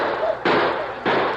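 Gunfire effects in a western radio drama: two or three abrupt, loud bursts of shooting in quick succession over a brief, busy battle scene.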